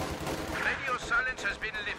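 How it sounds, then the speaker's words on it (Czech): Gunfire and explosions in the Company of Heroes 2 multiplayer video game, a short burst of loud, sharp shots and booms, with a voice briefly audible beneath. "Kde se střílí ale někde?"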